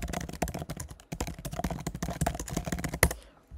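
Typing on a computer keyboard at a desk, with a rapid, irregular run of crisp close keystrokes and brief pauses, ending in one louder key press; no one speaks.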